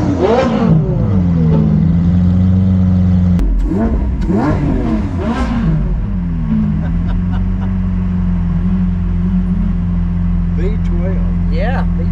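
V12 car engine revving hard, with several rising and falling blips before settling into a steady, loud drone heard from inside the car, voices talking over it.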